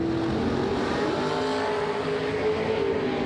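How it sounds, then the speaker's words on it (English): A dragster race car accelerates hard down a drag strip at a racing event, its engine a loud, steady, sustained roar that dominates throughout with no voices. "That would be Papa in the dragster, dialed in 435, going Ricky Bobby fast."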